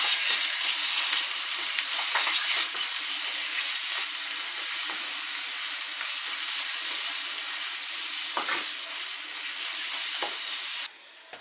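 Peppers sizzle loudly and continuously in a hot pan, a dense steady frying hiss with small pops, cutting off abruptly near the end.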